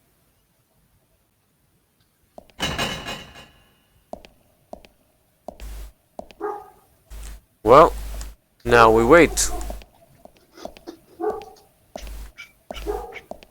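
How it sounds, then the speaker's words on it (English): A German Shepherd barks in short, separate bursts, fairly close, with whimpers and yips between them and a voice speaking quietly over the quiet stretches. "And now I realize that there is a dog barking."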